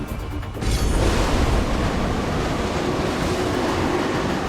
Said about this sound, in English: She sails directly into the waves, and because she is lower in the water, she cuts through them.